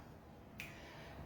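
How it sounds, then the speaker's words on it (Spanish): A single crisp finger snap lands in the middle of a quiet room, sharp and close, with a faint hum underneath and no voices. "cambia el chasquido arriba"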